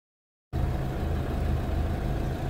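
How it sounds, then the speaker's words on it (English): A motorhome engine runs steadily, starting abruptly after a brief silence and holding a constant low rumble with no voices over it. "With the engine running,"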